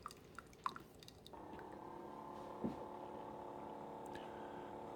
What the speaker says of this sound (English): It's going to run another 12 ounces through the machine.